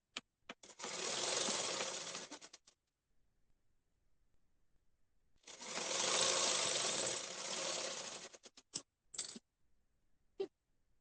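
A sewing machine stitches the side seams of a kurti in two sustained whirring runs of a few seconds each, close and steady, followed by a few short bursts of stitching.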